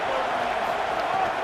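Stadium crowd in College Football 26 with fans pinning an opponent deep in its own end, a dense, steady roar filling the whole stretch at even loudness, with no clear single voices on top.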